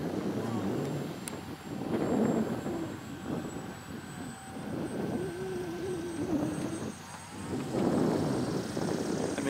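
A radio-controlled EFXTRA model airplane on its maiden flight drones overhead with a steady, wavering motor whine that swells and fades as it passes, heard under muffled nearby voices.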